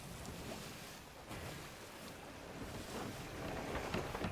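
Wind and rushing water surge steadily around a sailing ship at sea in the video game Sea of Thieves, a continuous stormy wash with no voices.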